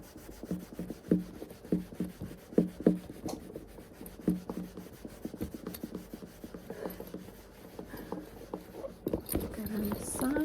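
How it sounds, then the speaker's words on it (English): Cream is buffed into a leather Mulberry Alexa handbag with a cloth, making quick, close rubbing strokes in an uneven rhythm with soft scuffs and creaks. "And then you sort of buff it up to remove the excess cream and to give it a bit of a sheen."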